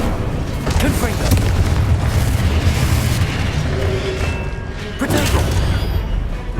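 Confringo blasting spells explode in Hogwarts Legacy during Charles Rookwood's trial, with heavy booms and crashing bursts layered over continuous loud combat noise, and a voice heard amid the action.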